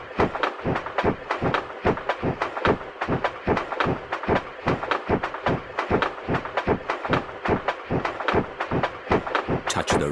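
Train ride in the Peppa Pig Theme Park video game, a steady run of rhythmic clickety-clack beats repeating quickly and evenly throughout, loud and close with no talking.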